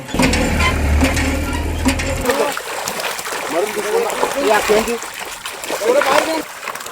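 Water rushes and splashes nearby in a continuous noisy wash, with a low mechanical hum early on and people talking over it.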